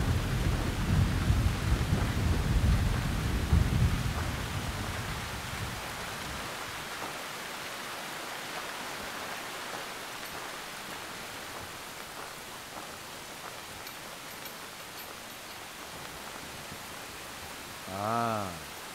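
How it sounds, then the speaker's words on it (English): Heavy rain pours steadily in the Splinter Cell Chaos Theory game, loud and dense at first with a low rumble, then easing into a softer continuous wash that ends with a brief electronic tone. "It's a monsoon out there"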